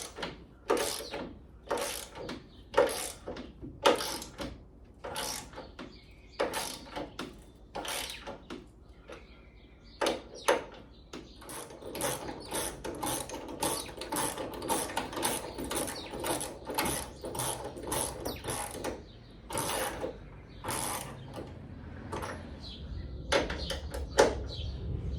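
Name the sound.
ratchet tightening VW Beetle steering components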